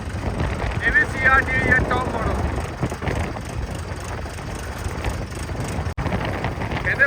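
A Swaraj 655 tractor engine runs steadily outdoors in a village, a low continuous rumble with a broadband mechanical drone that holds throughout, mixed with faint background voices.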